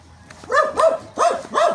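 A dog barks four times in two quick pairs, close and fairly loud, with a faint low hum underneath.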